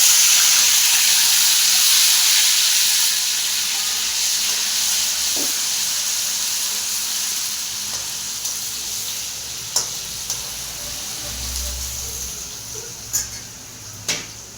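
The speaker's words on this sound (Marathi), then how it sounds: "तेलामध्ये टाकले जिरं जिऱ्याच्या नंतर टाकतो त्यात अद्रक लसूणचा पेस्ट" Cumin and ginger-garlic paste sizzle steadily in hot oil, a continuous hissing fry that slowly eases, with a few sharp clicks and taps of a utensil near the end.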